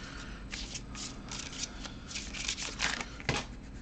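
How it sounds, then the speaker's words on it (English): A deck of cards being shuffled for a solo tabletop game, with a steady close riffling flutter and a few sharper snaps, no talking. "I'm going to give it another quick shuffle just so you guys know that I'm on the ready, on the level."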